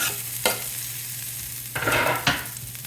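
Chopped garlic and rosemary toasting over medium-low flame in a pan, a steady gentle sizzle broken by a few scraping stirs and spoon taps near the end.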